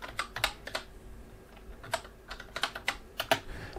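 Typing on a computer keyboard, irregular clicky keystrokes tapping in short bursts with small gaps, close and fairly quiet, with no talk.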